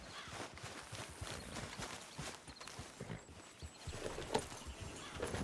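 Horse hooves clip-clop steadily at a walking pace in Red Dead Redemption 2, a continuous rhythmic patter layered over a busy, dense game soundscape.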